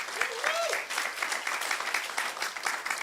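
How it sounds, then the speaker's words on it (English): Audience applause at a cybersecurity conference event, a dense wash of many hands clapping steadily for about three seconds, moderately loud with a brief voice-like tone near the start. "Maybe people can clap hands for that."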